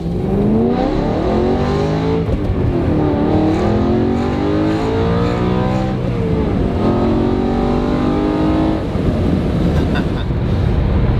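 A loud naturally aspirated 4-liter V8 of a BMW E92 M3 revs repeatedly toward its 8,400 RPM limit, pitch sweeping up through the gears with brief dips between, close and roaring throughout.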